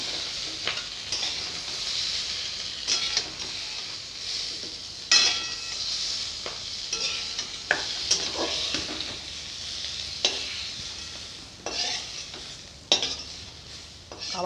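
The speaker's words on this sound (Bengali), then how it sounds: "এইভাবে আলুগুলোও ভেজে নেব" Thinly sliced, salted potatoes sizzle in hot oil in a home kitchen, a steady crackling hiss broken repeatedly by sharp scrapes and clatters of a spatula stirring against the pan.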